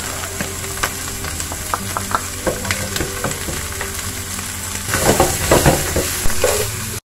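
Onion and garlic hit a pan of frying chorizo, crackling and sizzling steadily up close with scraping stirs throughout, the sizzle swelling louder near the end as fresh ingredients land in the hot oil.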